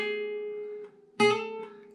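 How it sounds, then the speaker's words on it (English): A guitar note rings and is cut off, then after a short gap a new plucked note sounds with a slight extra click as the right hand picks too soon, close and alone. "And likewise, if your right hand is too soon,"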